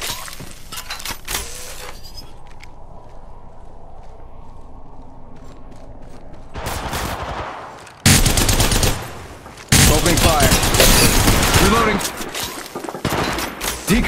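Heavy automatic gunfire in the mobile battle royale game Apex Legends Mobile, loud close bursts with shattering impacts, separated by a quieter lull, with in-game voice lines heard.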